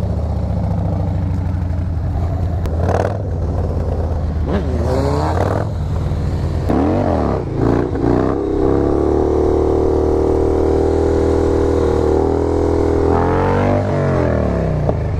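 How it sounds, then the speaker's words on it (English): A motorcycle on the street blips and revs repeatedly, then holds a long loud rising engine note as it pulls a wheelie before dropping back to sharp revs, close to the microphone and with no talk. "My bike wheelies again."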